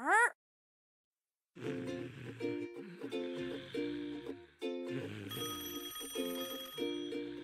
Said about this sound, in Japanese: 起きて。 電話だよ。